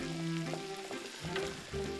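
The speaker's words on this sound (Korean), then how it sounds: "황태포에 골고루 양념장을 바르고 참기름을 넉넉하게 두른 팬에 올려" Seasoned dried pollack sizzling in a pan with plenty of sesame oil, a steady crackling fry with occasional spits and a brief stir or shift of the fish, close up.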